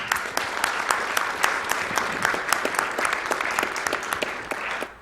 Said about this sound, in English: we can go ahead and do that round of applause